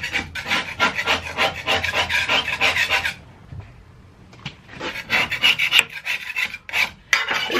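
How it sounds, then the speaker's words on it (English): Grassbuster scraper tool scraping away at a deck, a close, loud run of rhythmic rasping strokes, a pause of about a second and a half, then more vigorous scraping strokes. "Basically what you do is you'll just take it, start scraping away."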